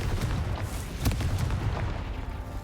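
Confringo, the explosive fire spell in the video game Hogwarts Legacy, going off in a short burst of booming blasts and crackles against steady, noisy game ambience.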